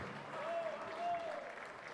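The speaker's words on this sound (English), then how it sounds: "once again, family and friends, a round of applause for Navai Ho'olu'o ke a nui nui" Family and friends give a brief round of applause at a school event, soft scattered clapping heard at a distance, with a faint tone and murmur mixed in.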